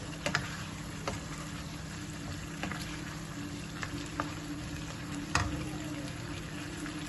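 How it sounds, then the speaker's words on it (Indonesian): Boiled egg curry simmers and fries quietly in a pan, a soft, even crackle under occasional light clicks of a spoon stirring, with no talking. "Ini kita kacau sampai semua bahan kari telur rebus. Kita masakkan sebentar."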